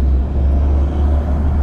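Dense, jammed traffic on a Jakarta road in the Pluit area near the Pantura coast, a steady low engine rumble from packed cars and motorbikes, loud and continuous with no voices.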